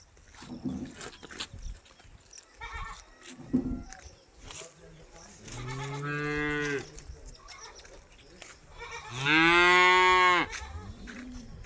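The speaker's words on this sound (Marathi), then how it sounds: "दोन्ही गाय मोठाले आहे" Two large cows moo loudly and nearby, with two long drawn-out calls. Scattered shouts and handling noises come between the calls.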